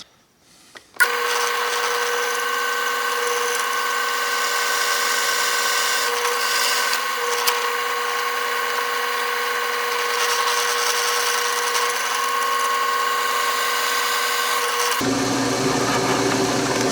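A power drill bores holes in a workbench wheel lift part, a loud, steady whirring hum that starts abruptly and runs without a break for about fourteen seconds before cutting off.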